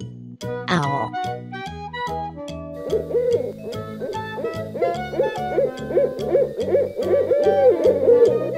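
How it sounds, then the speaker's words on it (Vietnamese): Owl hoots come in a rhythmic series over cheerful background music, moderately loud and near, preceded by a brief rising tone. "Owl."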